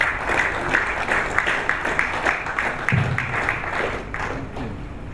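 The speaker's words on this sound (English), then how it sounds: "Round of applause, please." Audience at a Nigerian Institute of International Affairs event applauding steadily after a World Cup talk, with a dense, even patter of clapping throughout and a brief low thump near the middle.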